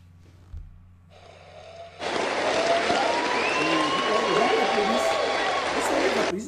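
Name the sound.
audience applause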